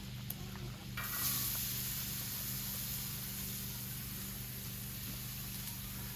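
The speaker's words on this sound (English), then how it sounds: "fat that came from the bacon, and to that we're going to add about 3 cloves of garlic and about a half an onion." Garlic cloves and half a red onion sizzling over high heat in rendered bacon fat, a constant close hiss with a brief louder burst at the start, no talk.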